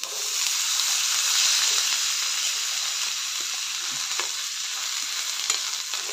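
Cooked corn sautéing in butter with garlic, chili flakes and salt, a loud, steady frying hiss close by, with faint scrapes of stirring now and then.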